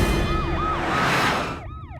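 An ambulance siren wails in a Hindi film scene, its rising and falling tone loud and close at first, then dropping to a lower pitch and fading slightly as the vehicle passes.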